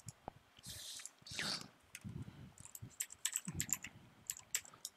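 Quick bursts of keystrokes on a computer keyboard while login and account details are entered, close and fairly quiet, irregular clicks clustering in short runs with brief pauses between them.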